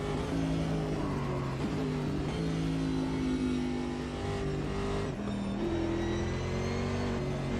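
A Porsche GT4 race car in Automobilista 2 drones at high revs, its engine pitch rising and falling with gear changes around Eau Rouge, loud and steady throughout without speech.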